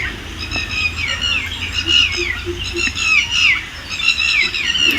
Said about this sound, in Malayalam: എൻ്റെ ചുറ്റും നിറയെ കിളികളാണ്. ഒരു പാടത്തിൻ്റെ നടുവിലാണ് ഇരിക്കണത്.